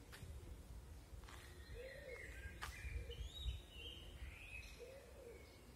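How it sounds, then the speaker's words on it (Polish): Outdoor birds under a cloudy sky before rain: pigeons coo softly in low, rounded phrases while small songbirds add scattered chirps and whistles, all faint and somewhat distant over a low rumbling background. "Gołąbki gruchają, ptaszki śpiewają."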